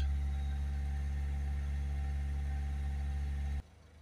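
Peugeot Citroën 1.6 HDi diesel engine holds a steady, close drone at raised revs, then is switched off abruptly near the end, leaving only a faint background hum.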